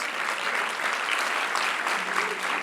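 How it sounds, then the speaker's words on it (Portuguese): A church congregation in Lisbon claps during a sermon, a dense, even wash of many hands at steady loudness, unbroken throughout. "dá uma salva de palmas para Jesus"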